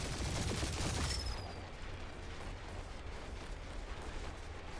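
Turret gunfire in the Marvel's Guardians of the Galaxy video game, a dense, loud burst of rapid shots and blasts that drops after about a second into a steady rumbling wash of battle noise.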